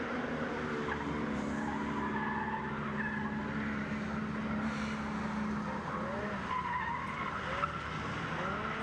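Drift car with a 400 horsepower SR20 engine sliding through a pro qualifying run, tyres squealing continuously and the engine roaring loudly and steadily near the listener, with no voices.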